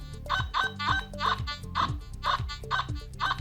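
Repeated warbling electronic tones from a Nokta metal detector passing over a coin in all metal mode, about seven rhythmic bursts in quick succession, loud and close.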